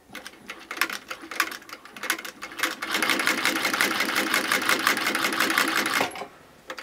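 A shoemaker's shoe sewing machine of a century-old design stitches men's dress shoes with fine No. 30 thread. It starts with spaced mechanical clacks, then settles into a steady, fast, close whirring chatter that stops abruptly near the end.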